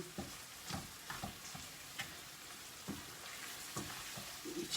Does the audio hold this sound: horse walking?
no